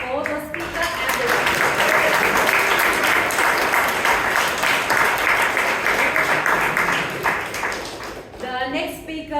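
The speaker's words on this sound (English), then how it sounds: "One more round of applause for the speaker" Audience applause for a speaker at a Toastmasters club meeting, a loud, steady burst of many people clapping that swells quickly and fades near the end, with voices talking at the start and close.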